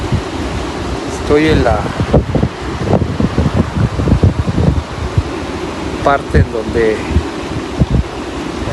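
Meltwater rushes from a melting glacier where a river begins, a constant, powerful roar like strong wind. A person talks over it throughout.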